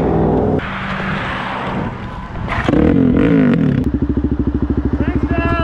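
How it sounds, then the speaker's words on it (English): A supermoto motorcycle is bump-started; the engine catches and roars loudly up close, then settles into a fast, pulsing idle, with voices heard over the engine. "this is how you bump start a bike"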